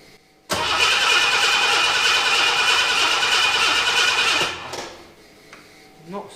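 Starter of a 1976 Ford Capri Ghia cranks loudly and continuously for about four seconds without the engine catching, then cuts out, leaving faint clicks and handling noise.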